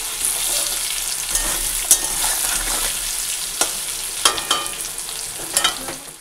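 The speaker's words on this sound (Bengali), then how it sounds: "কাঁকরোল ভাজা বসিয়ে দিয়েছি" Spiny gourd (kakrol) slices fry in a pan with a continuous bright sizzle, punctuated by several sharp scrapes and clicks of stirring, with no voices.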